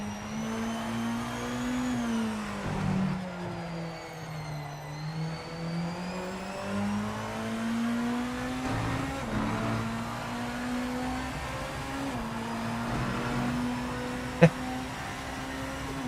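The BMW V8 Hybrid M LMDh hypercar in the Project Motor Racing game holds a steady engine drone that rises and dips gently, with one sharp click near the end.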